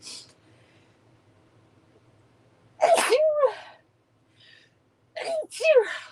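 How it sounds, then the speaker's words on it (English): Two loud sneezes burst out a couple of seconds apart after near silence, the second with a quick double-catch, close to the listener. "I'm going to sneeze."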